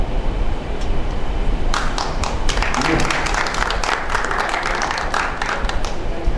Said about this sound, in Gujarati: આમ તાળી ઓછી થવા માંડી છે